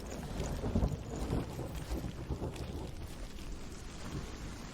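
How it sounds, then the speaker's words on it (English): Heavy rain pours in a dense, continuous wash in the video game Hellblade: Senua's Sacrifice, with low rumbles like thunder underneath and no speech. "this rain is coming down hard-ish"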